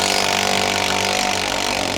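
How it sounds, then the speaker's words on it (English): A power tool loosening the undershroud bolts on a G35/G37 sedan gives a loud, close, steady motor whine with a fast buzzing pulse, running without pause for the whole two seconds. "we're gonna take all the rest of the bolts off for the"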